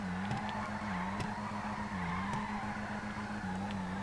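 Tire squeal from a Vulcan Warrener car drifting in GTA 5 Online, a sustained wavering screech over steady engine drone, loud and continuous throughout.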